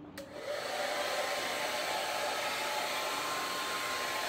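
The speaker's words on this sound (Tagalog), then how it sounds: "So, I need to blow dry my hair." A hair dryer switches on after a brief click and then blows steadily, a constant close whooshing hum as hair is blow-dried, with no talking.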